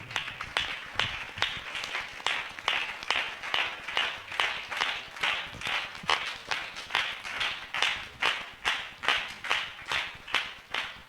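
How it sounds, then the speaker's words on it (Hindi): A church congregation claps loudly in welcome, a fast, even rhythmic beat of many hands in unison that keeps going, close and sustained, with no talking over it. "हम जोरदार ताली से उनका स्वागत करें।"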